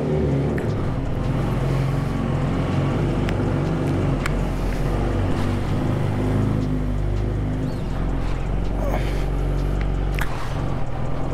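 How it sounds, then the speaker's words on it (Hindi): A Kawasaki Ninja H2 carbon motorcycle's engine rumbles steadily on its first ride, with a loud low drone and wind rush throughout, plus a few faint clicks and shifts over the constant noise. "this is my first official ride on my Kawasaki Ninja H2"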